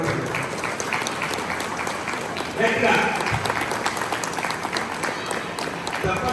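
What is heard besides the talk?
audience clapping at Lions Club installation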